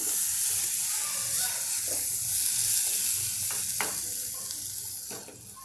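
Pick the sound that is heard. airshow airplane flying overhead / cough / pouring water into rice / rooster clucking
pouring water into rice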